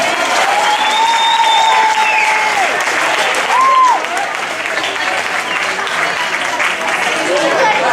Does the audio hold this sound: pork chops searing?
no